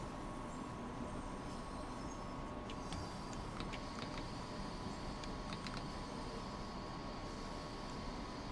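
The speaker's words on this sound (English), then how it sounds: "Trying to drive a train." Train driving in Train Sim World 6, a steady low rumble of rolling wheels with a faint continuous tonal hum and occasional light metallic clicks.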